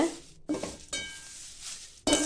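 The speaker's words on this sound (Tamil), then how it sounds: "முருங்கைக்கீரையை அப்படியே வறுத்து எடுத்துக்கலாங்க" Drumstick leaves dry-roast in a pan while being stirred: close scraping and rustling strokes in several bursts, with a soft sizzle between them.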